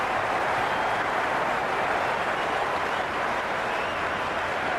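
Stadium crowd in the cricket video game Cricket 26, a dense continuous roar of cheering and applause holding steady at a loud level throughout.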